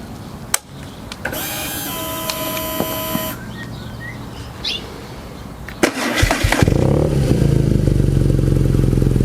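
A BMW R nineT motorcycle cranks over after some mechanical clicks and whirs, then catches near the six-second mark and settles into a loud, steady, close idle in neutral.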